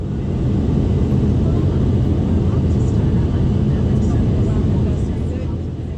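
Steady, loud cabin roar of a Hawaiian Airlines Boeing 717 cruising at 21,000 feet on a short Honolulu to Kona hop, a dense low rumble holding constant from start to end with no talk.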